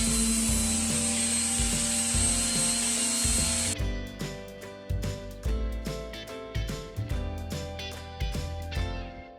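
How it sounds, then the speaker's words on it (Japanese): A power sander works cut wooden strips for a wooden ceiling in a kei van, giving a steady high whine at first, then a run of rhythmic grinding strokes with repeated knocks as the pieces are handled. "すべてカットしたらサンダーで削っていきます。"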